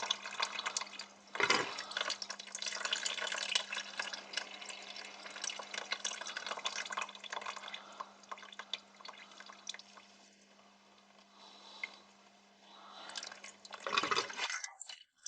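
Coolant from a Mercedes Vito W639 drains in a steady splashing trickle, wet and continuous for about fifteen seconds with a brief louder gush near the start and another near the end, with a faint steady hum underneath.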